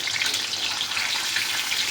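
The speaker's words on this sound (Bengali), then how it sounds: "তেল গরম হয়ে গেছে, মাছটা জাস্ট দিয়েই" Hilsa fish frying in hot oil in a heated pan, a dense, steady hiss and crackle at even loudness throughout, close up, with no talk.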